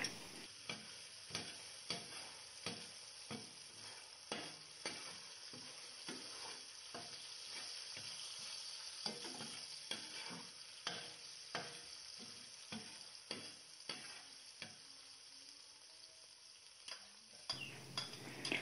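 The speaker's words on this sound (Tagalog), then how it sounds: "Ayan, magisa na tayo sa pinagprituhan. Ayan, naglagay na tayo ng sibuyas." Onions sautéing in frying oil for pork steak, a steady soft sizzle broken by regular clicking scrapes of a utensil stirring, close and moderately quiet with no talking.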